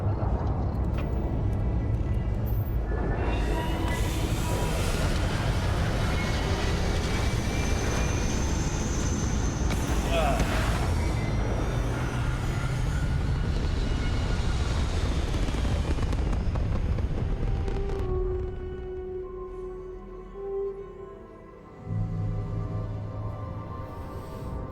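Spaceship in the video game Starfield takes off with a loud, sustained, broadband rumbling roar that holds for about eighteen seconds. It then drops away into a quieter hum with faint electronic tones.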